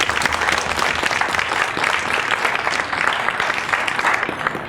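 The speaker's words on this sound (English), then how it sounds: "So give yourselves a round of applause for that," Outdoor crowd of students, staff and citizens at a Bike to City Hall Day event applauding, a dense, continuous round of clapping at moderate distance lasting the whole stretch.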